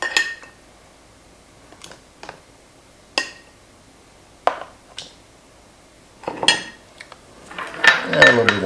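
Tomatoes tipped into a pot of Hungarian beef goulash, giving a run of scattered clinks and knocks of utensil on pot, growing busier and louder toward the end, with no voices.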